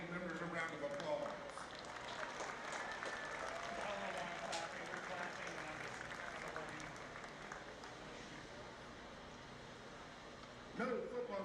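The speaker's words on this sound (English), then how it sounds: "Let's give our Good Sportsman League members a round of applause." A crowd at a high school football game applauds steadily, a dense wash of clapping that holds for about ten seconds before tapering, with a brief louder burst near the end.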